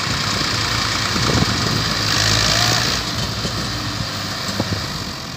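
A Massey Ferguson MF 260 tractor engine labouring under heavy load as it strains to pull, a loud steady low rumble that swells briefly and then settles, heard close with no talking.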